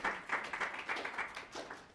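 An audience at a board of education meeting gives a brief round of hand clapping, a quick, fairly faint patter of overlapping claps lasting a couple of seconds.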